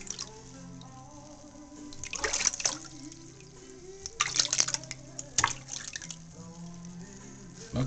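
Water trickling and dripping as a pet dove is rinsed, with splashy bursts over a low steady background, close by; a person talks intermittently.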